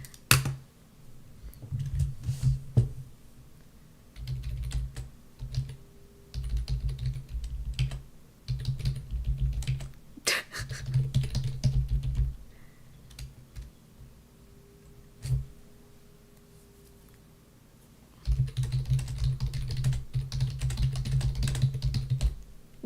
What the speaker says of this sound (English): You guys like my typing sound?